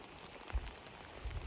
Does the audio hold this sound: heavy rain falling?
yes